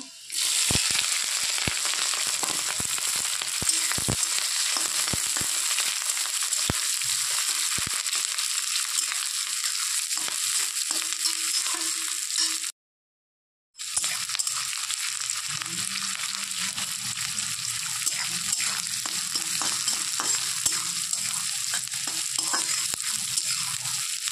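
Garlic, onion and green chili fry in hot oil in a pan for a prawn and pumpkin dish, giving a steady, loud sizzle with scattered crackles and stirring scrapes that continues nearly throughout, broken by one short silent gap.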